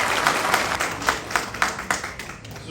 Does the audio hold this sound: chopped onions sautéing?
no